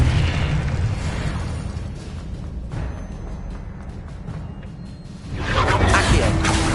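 A Confringo blasting spell goes off in Hogwarts Legacy, a loud rumbling burst that fades into a low roar before another whooshing blast rises near the end.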